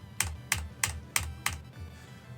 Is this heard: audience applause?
no